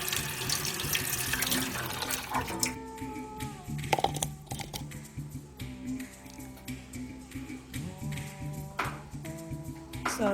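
Tap water runs steadily into a sink as mulberries are rinsed, a continuous close splashing with occasional clinks and bumps of fruit and bowl, no talking.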